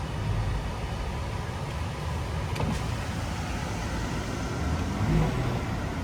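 A 2020 Land Rover Defender X six-cylinder engine running at a steady, low idle, heard from inside the vehicle as a constant muffled rumble with broadband hiss and no voices.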